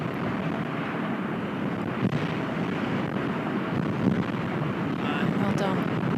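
Strong wind sweeps across a golf course at a women's professional tournament in Scotland, a steady, dense roar of gusts on the microphone that holds throughout, with commentators talking beneath it.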